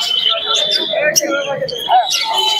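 Pigeons at a bird market in Santipur, close chirps and coos mixed with busy crowd chatter.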